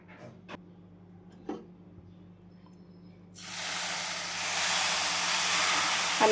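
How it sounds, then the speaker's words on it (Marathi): Milk poured into a hot pan of dry coconut ladoo mixture, a loud steady hiss and sizzle that bursts in suddenly after a few quiet seconds with light clinks, then holds strong and close. "आता मी याच्यामध्ये दूध टाकून घेते"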